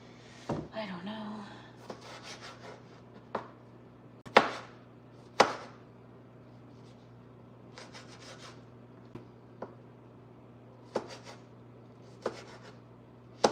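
Knife chopping food on a cutting board in a home kitchen, sparse single thuds and short bursts of cutting spread through the clip under light background talk and a steady hum.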